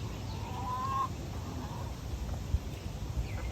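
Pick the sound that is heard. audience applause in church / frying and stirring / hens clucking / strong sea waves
hens clucking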